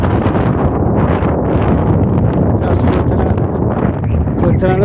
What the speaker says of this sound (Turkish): Çok güzel esinti var.